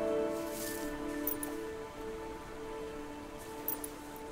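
Rain in the game Farewell North: a steady soft patter of drops on surfaces, with a faint sustained tone underneath and a couple of brief louder taps, no talking.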